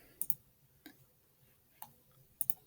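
Mouse clicks while testing a homemade clicker game: a few sharp, quiet clicks, some in quick pairs, spread irregularly over a near-silent background with no talk.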